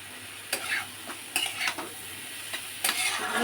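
Onion and garlic fry in a pan with a steady sizzle, while a utensil stirs them in several distinct scraping strokes. The sound is close, and no one speaks.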